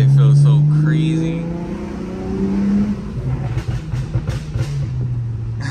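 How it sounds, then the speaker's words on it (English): A Chrysler SRT on the road gives a low engine drone with a brief rise in pitch, heard from inside the car, while people talk over it. "We on the road in the motherfucking Chrysler, man."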